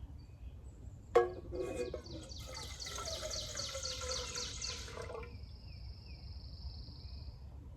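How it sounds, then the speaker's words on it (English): Water poured into a kettle while making cowboy coffee, a soft clink at the start followed by a few seconds of trickling, splashing pour that stops abruptly, then quiet background; fairly faint overall. "we're going to pour that in to the kettle"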